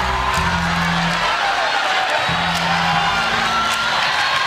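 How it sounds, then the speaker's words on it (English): Crowd noise fills a volleyball arena during an NCAA women's volleyball match as fans rise to their feet, a steady wash of cheering and shouts with tonal horn-like blasts running through it. "The crowd's starting to get a bit antsy now here in Horace Family Volleyball Arena, up, but now starting to stand on their feet, trying to make some noise"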